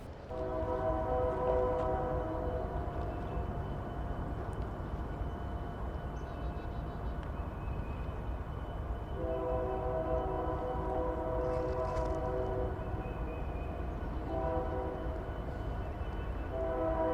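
Freight train 26C, over 5,000 feet long, departs Whitaker Yard sounding its horn in two long sustained blasts with shorter toots between, over a constant low rumble of engines, moderately distant.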